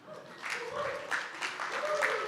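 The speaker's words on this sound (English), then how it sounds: "I just want to sort of get a quick round of applause for everyone that made it here that's not from Baton Rouge" A conference crowd at a technology cup opening ceremony gives a modest round of applause, moderately loud and building slightly, with a voice talking over it.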